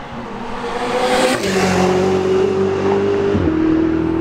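A Ferrari sports car accelerating out of a chicane onto a straight at the Montlhéry circuit, engine revving hard and climbing in pitch through gear changes, loud and close, its roar rising then dropping at each shift.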